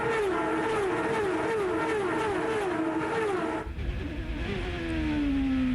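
Champ Car open-wheel race cars at the 2004 Montreal round, engines screaming loudly as they pass in a cycling, shifting whine, then a second car's pitch swooping down after a brief dip on the restart.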